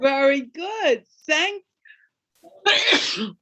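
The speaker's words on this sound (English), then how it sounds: "had to sneeze." A sharp single sneeze bursts out near the end of an English-speaking practice conversation, following short spoken phrases from a nearby voice.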